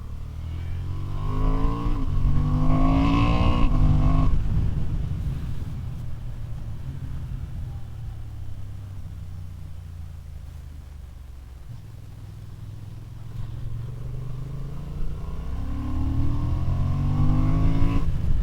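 A 2023 Honda Hornet twin-cylinder middleweight motorcycle on 120 mm front and 160 mm rear tyres revs and accelerates, its engine note rising and falling through gear changes, loud and close, with wind rush and no speech.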